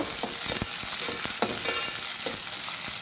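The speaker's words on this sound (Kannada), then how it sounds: "ಹಸಿಮೆಣಸಿನ್ಕಾಯಿ ಸ್ವಲ್ಪ ಬಾಡಿಸ್ಕೋಬೇಕು" Green chillies sauté in a pan with onions, a bright steady sizzle with rhythmic stirring scrapes, close and fairly loud.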